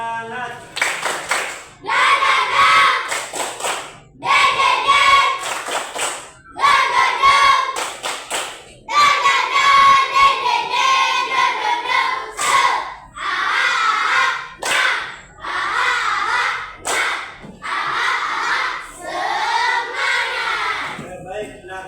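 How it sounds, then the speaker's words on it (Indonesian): A class of children performs the 'tepuk semangat' spirit clap chant, with sharp rhythmic clapping in repeated bursts alongside chanted group voices, fairly close and lively throughout. "Oke, tepuk semangat."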